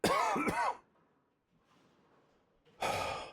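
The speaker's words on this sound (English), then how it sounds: "I apologize for the coughing" A person coughs and clears their throat, with two harsh bursts close to the microphone at the start, a quiet breathy pause, then another rough cough at the end.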